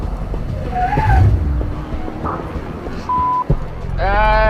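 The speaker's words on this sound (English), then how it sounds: "I think he just locked up a tire." A Firebird race car runs loudly at a distance, then a sharp tonal squeal of a tire locking up and skidding cuts in, followed by a rising engine whine, with people talking over the noise.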